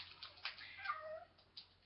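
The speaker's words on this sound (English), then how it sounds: "my cat's wanting out, and he's doing this right in the middle of me doing a video" A house cat meows to be let out, a faint drawn-out meow with a few softer short cries around it, quiet and with no one talking.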